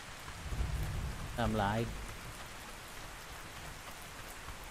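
Rain falling in the video game ARK Survival Ascended: a steady, soft hiss of rainfall runs throughout at low level, with someone speaking briefly over it.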